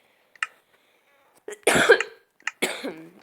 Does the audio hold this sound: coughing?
yes